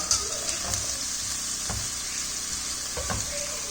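Crushed shallots and small chilies sauté in a pan for a fish egg stir-fry, giving a steady close sizzle with a few soft stirring scrapes and no talking.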